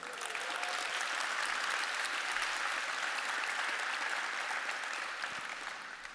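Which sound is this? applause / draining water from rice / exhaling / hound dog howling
applause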